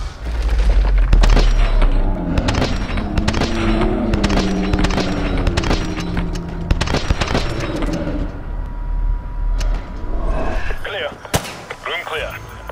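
Gunfire and explosions from Call of Duty: Modern Warfare 2 Remastered, with sharp shots in irregular bursts and deep booming blasts, loud and close, and voices speaking at times.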